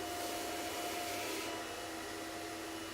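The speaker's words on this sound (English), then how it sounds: "you can run your blow dryer over the top just to get any fluffy bits" Blow dryer run over medium-length hair during a blow wave, a steady faint airy whoosh with a constant motor hum and no talk.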